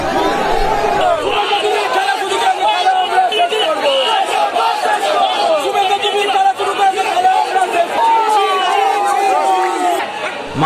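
Noisy crowd of TMC supporters outside SSKM hospital in Kolkata, many voices shouting and chattering at once in a dense, continuous outdoor babble.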